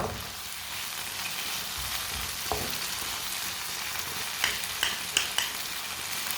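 Vegetables for chicken macaroni frying in a pan over a high flame, a continuous bright sizzle with occasional spatula scrapes and clicks near the end.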